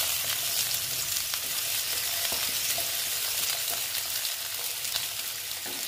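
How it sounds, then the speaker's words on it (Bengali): Bitter gourd and sweet pumpkin fry in hot oil with a steady, dense sizzle, close and continuous, with light stirring clicks and scrapes now and then and no voices. "আমি আবার মিষ্টি কুমড়োর সঙ্গে আবার এইগুলো ভাজা ভাজা করে দিচ্ছি"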